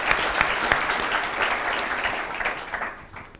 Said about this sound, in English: round of applause and welcome our panel